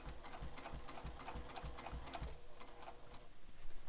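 A sewing machine stitches fabric for a bag at a steady, fast mechanical rhythm, a continuous close whirring run with even needle ticks and no pauses.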